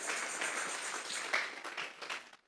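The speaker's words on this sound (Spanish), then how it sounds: "Vamos a regalarle ofrenda de palmas al Dios de la gloria." A church congregation claps together as an offering of applause to God, a steady wash of many hands clapping at moderate volume, fading out at the end.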